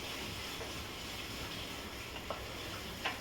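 Boiled baby corn sizzles and fries in spices in a pan on low heat, a steady soft crackle with faint stirring scrapes, no voice.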